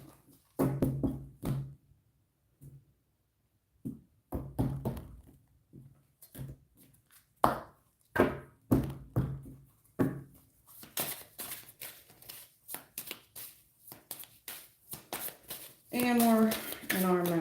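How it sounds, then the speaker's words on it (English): A stiff, never-used tarot deck is shuffled in bursts of close riffling and tapping, with a person talking in between and over the card noise. "I'm trying to get a shuffle on it. Trying to mix the deck up a little bit here."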